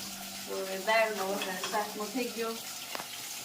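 Spices for cluster bean and potato curry sizzle and crackle in hot oil with some stirring, while a person talks over the frying.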